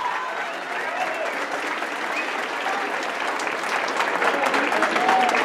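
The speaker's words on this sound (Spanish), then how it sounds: "Fuerte aplauso para ellos," A school audience gives loud, sustained applause, a steady dense roar of many hands clapping that builds slightly toward the end, with faint voices mixed in.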